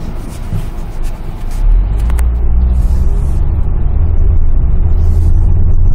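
A Ford Explorer 2.3 gasoline car drives and swings through a U-turn, giving a steady low engine and road rumble that swells slightly louder partway through, with no one talking.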